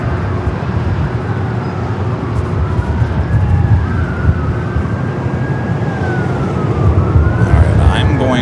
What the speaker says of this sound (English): You can hear the sirens,